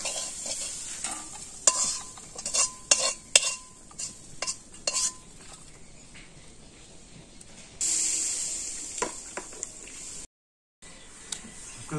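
Garlic fries in a pan and is stirred with a utensil, giving a series of close scraping clinks and knocks over a soft sizzle that swells into a steadier hiss.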